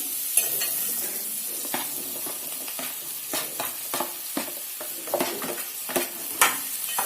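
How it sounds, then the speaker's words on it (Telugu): Okra pieces and half-fried onions stirred in a pan for a tomato-okra curry, with steady close sizzling and frying broken by repeated scraping stirs of a spoon against the pan. "బెండకాయలు కొన్ని కొన్ని వేసుకుంటూ మొత్తం ఇలా కలపండి"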